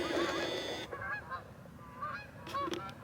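Geese honk repeatedly at a distance over steady background noise, with scattered calls rising and falling.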